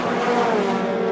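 Toyota MR2 race cars howl past together at Brands Hatch, a loud, close, sustained engine roar with pitch gently falling as they run side by side through the corner.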